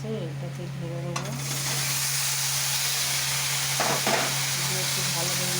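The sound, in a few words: cooked cabbage poured onto fried onions and stirred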